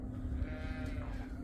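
Ţigaie Serbian ewe bleating beside her newborn lamb, one drawn-out quavering bleat at moderate distance over low background noise.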